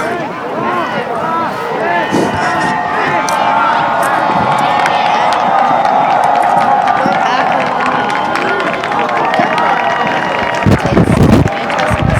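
Stadium crowd at a Liberty versus Manchester football game, a steady broad roar of murmuring spectators with scattered cheers and claps throughout, fairly loud and continuous, with a brief louder burst near the end.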